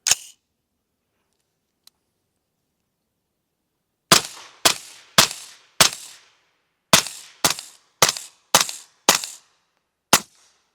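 A suppressed rifle in 300 Blackout fires supersonic and HSM 220-grain subsonic Sierra MatchKing rounds, eleven sharp muffled cracks in total: one at the start, then ten spaced about half a second to a second apart, each with a quick decay.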